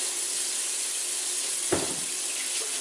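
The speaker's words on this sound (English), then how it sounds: "wash my hands" Kitchen tap running steadily while hands are washed, a constant hiss of flowing water with one brief splash partway through.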